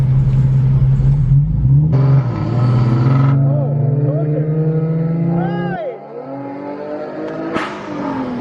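A car fitted with test pipes accelerating hard, its raspy exhaust loud and close, climbing through rising revs and gear changes, with a passing whoosh near the end and people talking over it.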